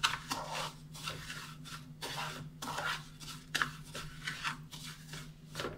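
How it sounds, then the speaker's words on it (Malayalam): Vermicelli is stirred into melted butter in a pan, producing repeated rhythmic scraping and light clinking strokes of a spoon against the pan, fairly quiet and close, with no speech. "ഇതിലേക്ക് സേമിയ ചേർത്തു. എല്ലാത്തിലേക്കും ആകുന്ന വിധത്തിലൊന്ന് മിക്സ് ചെയ്തെടുക്കുക."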